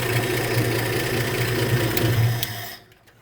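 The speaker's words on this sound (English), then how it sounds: "It's gonna idle." Swapped engine in a Ford F100 pickup idling steadily with a low, even rumble, loud and close, before cutting off abruptly near the end.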